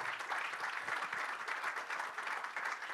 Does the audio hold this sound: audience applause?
yes